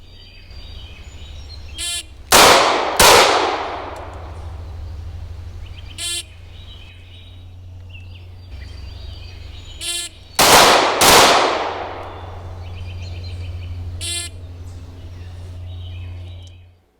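Gunshots from a 940 revolver and a Hellcat micro-compact pistol at an outdoor range, sharp loud reports in two pairs alongside lighter distinct pops, spaced over several seconds against a steady low hum.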